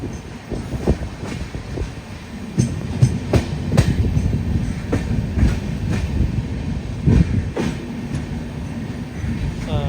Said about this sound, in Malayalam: ട്രെയിനിൽ ഇങ്ങനെയാണ് ലോറി കയറ്റി കൊണ്ടുവന്നത് കേട്ടോ